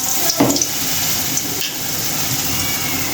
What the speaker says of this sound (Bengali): তো এখন আমি এই যে বেগুনের চপ ভেজে নেব, বেগুনের বড়া।